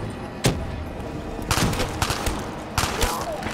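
Thrown grenades blowing up in Black Ops 3 Zombies on the Call of the Dead map, with several sharp booms and bursts of gunfire over a steady game background.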